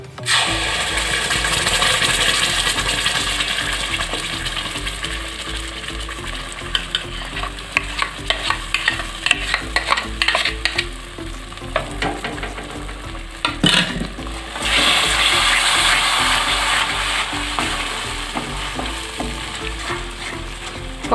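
Ground gravy for butter chicken fries over low heat while a spoon stirs and scrapes the pan, steady sizzling with repeated scraping strokes, close and loud for about twenty seconds, no speech.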